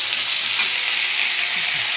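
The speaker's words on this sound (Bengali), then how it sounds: "তো ভালো করে ভাজা করছি" Steady, close sizzling from ingredients frying in a pan while a besan curry is made, with a bright continuous hiss and no voices.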